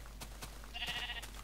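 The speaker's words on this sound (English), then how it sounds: "Look at my sheep. Oh, he's so ugly. He's brown." A brown sheep bleating in the Minecraft video game, one short wavering bleat in the middle of the clip over a steady low background hum.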